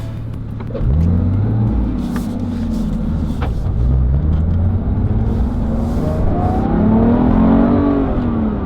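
A Porsche 911 with a GT3 RS engine revs up and pulls hard, with a deep rising drone that climbs through gears; loud, close, steady, with no talk.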